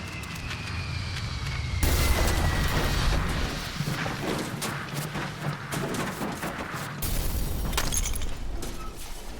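A plane crash in the survival video game The Forest sounds as a dense, roaring rush of crashing and smashing noise, with a loud impact surge and a harsh debris-filled rumble that continues throughout.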